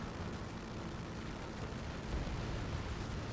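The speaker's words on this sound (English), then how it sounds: "there's a prime example of that chain reaction right there" Chain reaction of exploding aircraft in Ace Combat 7: Skies Unknown, a steady, loud roaring rumble of blasts and jet noise blending into one continuous wash with no pauses.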